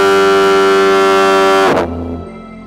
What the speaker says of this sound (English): The lighthouse is still assisting mariners with both its penetrating light and its almost deafening steam-driven foghorn